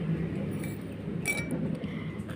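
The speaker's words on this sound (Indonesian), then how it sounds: "kita masukkan garam ke dalam gelas, cukup 1 sendok" A spoon tips salt into a drinking glass with a few light clinks, one brighter tap partway through, over a faint room hum and no talking.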